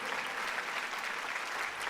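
Audience applause at a Women's Day poetry recital, a continuous wash of many hands clapping that stays fairly faint and even throughout the short stretch, with no distinct voices.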